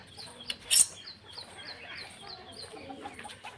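Bantam hens at a bird seller's clucking softly in short bursts, with one sharper squawk early on, fairly faint against a quiet background.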